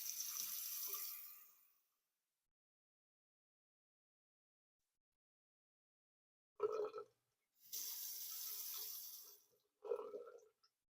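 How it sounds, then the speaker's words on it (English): Water rushes from a faucet with a freshly cleaned aerator, in two separate bursts of steady hiss: one short stream at the start, then after a long silence a second run set off by brief knocks of the handle. "we can open both faucets and then see how the water comes out"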